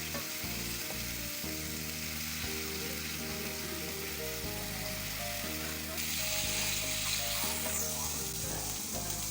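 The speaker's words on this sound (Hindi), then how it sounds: "अब हमारे प्याज जो है वो फ्राई हो रहे हैं।" Onions frying in oil in a pan for a chicken and chickpea curry, a steady loud sizzle with faint stirring scrapes throughout, no talking.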